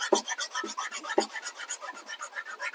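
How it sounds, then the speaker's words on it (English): A small wooden stop block sanded by hand, with quick rhythmic back-and-forth rasping strokes, close and crisp, about eight strokes per second with a few heavier pushes, and no voices. "First thing I got to do is sand that there"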